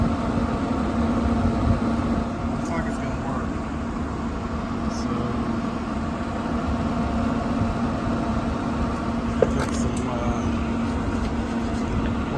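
A Pit Boss pellet grill's auger motor runs steadily with the shaft spinning, a constant low mechanical hum and whir that holds evenly from start to finish, with a few faint clicks on top.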